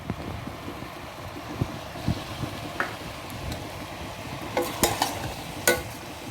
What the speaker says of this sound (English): And now I am going to add the tomatoes.